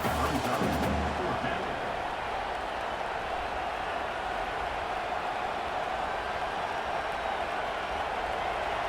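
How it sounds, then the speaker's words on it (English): Stadium crowd in College Football 25 roars continuously at a loud, steady level during a tense fourth-down stand near the goal line, a dense wall of cheering with a brief burst of clatter at the start. "This crowd busting the decibel meter and trying to will a 4th down stop."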